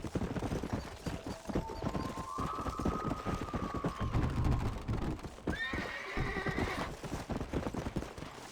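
Horse in the video game Red Dead Redemption, with steady clip-clop hoofbeats throughout and a couple of drawn-out neighs and whinnies over the galloping, fairly loud and close with no talking.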